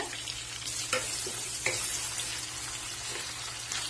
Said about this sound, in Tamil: உப்பு சேர்த்து வதக்கணும்னா தக்காளி சீக்கிரமாக வதங்கிடும்